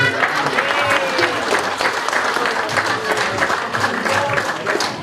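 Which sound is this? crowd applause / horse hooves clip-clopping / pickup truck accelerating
crowd applause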